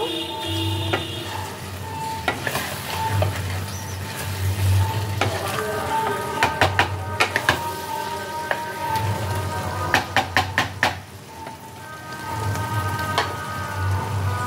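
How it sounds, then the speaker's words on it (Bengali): Spring onion stirred into thick chilli prawn sauce in a pan, with steady sizzling and bubbling throughout and bursts of sharp clattering utensil scrapes against the pan, loud and close. "স্প্রিং অনিয়নটা এবার এর সাথে ভালো করে মিশিয়ে নেব।"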